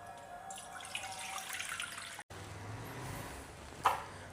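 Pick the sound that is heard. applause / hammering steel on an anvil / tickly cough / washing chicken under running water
washing chicken under running water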